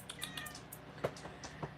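A house cat meows several times in quick succession, short and fairly faint, with small gaps between calls and some background noise.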